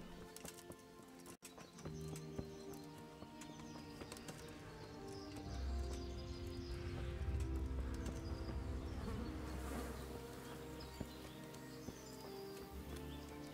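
Flies buzz faintly around a house in the video game Kingdom Come: Deliverance, a soft, continuous insect hum mixed with quiet clip-clop hoofbeats and ambient game sounds that swell slightly midway.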